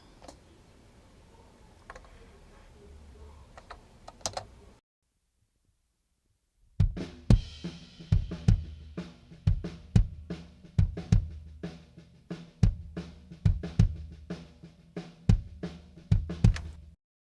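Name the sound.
isolated kick drum track with snare bleed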